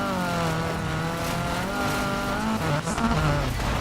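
A Volvo Amazon drifting in Need for Speed Payback, its engine droning steadily with rising and falling pitch while tires squeal through long sweeping slides, loud and continuous with no voices.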